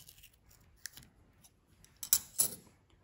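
Scissors cut origami paper for a paper plane, a few quiet snips followed by two sharper, louder cuts near the end against a quiet background.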